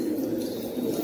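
Pigeons at a bird market in Amman, Jordan give soft, low, continuous cooing that hums steadily through the brief moment, close by and without talk.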